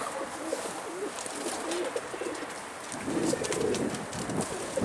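A pigeon coos softly a few times against a faint outdoor background, with no voices.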